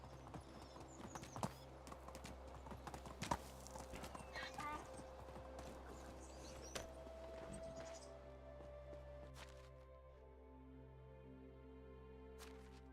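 Horse hooves clip-clop steadily in Medieval Dynasty, a medieval village-building game, with a whinny mixed in among game music and ambience, while a voice talks over the first half.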